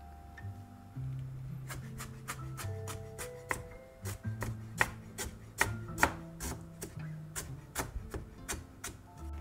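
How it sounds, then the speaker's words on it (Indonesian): A knife slices red ginger on a cutting board for a ginger drink, giving a steady series of crisp taps and chops, close and moderately quiet, with no voices. "Makanya di sini aku potongin, bukan aku geprek."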